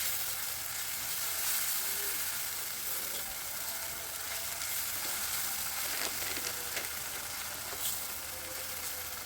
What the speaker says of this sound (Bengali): এবারে এই আদা রসুনটাকে তেলের মধ্যে কিছুক্ষণ ভাজবো যাতে করে কাঁচা গন্ধটা একেবারে কেটে যায়